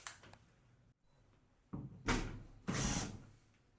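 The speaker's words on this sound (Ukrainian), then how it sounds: "Довелось зламувати серцевину стару." An old door lock cylinder core is forced and broken out of an entry door during lock repair, heard as a few sharp clunks and a longer grinding, scraping burst of metal work, close and fairly loud.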